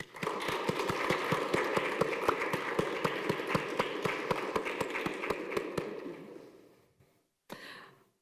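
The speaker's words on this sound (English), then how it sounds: "please give a huge round of applause to the wonderful" An audience applauds an honoree at a college honors ceremony, a dense, steady wash of clapping with sharp individual claps poking through, fading away after about six seconds, followed by a short burst near the end.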